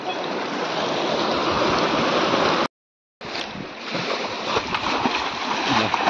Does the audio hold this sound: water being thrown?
yes